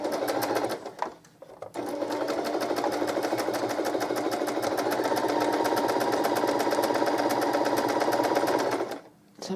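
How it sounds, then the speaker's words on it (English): A sewing machine chain-pieces quilt block pieces, running in a fast, steady stitching rhythm with two brief pauses, close and clear with no talk. "So I'm just chain piecing these together."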